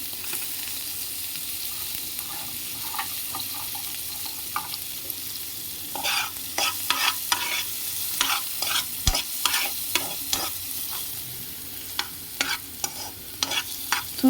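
Garlic and onion frying in a pan for mac and cheese, a steady close sizzle with repeated scraping stirs that grow busier in the second half, no voices.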